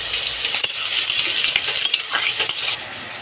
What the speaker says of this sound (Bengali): পেঁয়াজের মধ্যে দিয়ে দেবো কাঁচা লঙ্কা